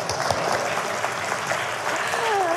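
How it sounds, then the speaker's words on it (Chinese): A lecture-hall audience at a church talk claps in a steady, close burst of applause lasting a couple of seconds, with faint voices near the end. "好，现在拍手，现在拍手，这样子。"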